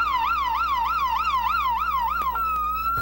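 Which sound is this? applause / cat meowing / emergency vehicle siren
emergency vehicle siren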